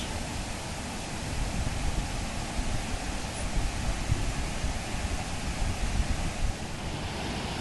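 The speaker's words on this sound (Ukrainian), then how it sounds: "внизу знаменитий у Яремче водоспад" The Probiy waterfall at Yaremche roars as a steady, dense rush of falling water, loud and close, with no voices over it from start to finish.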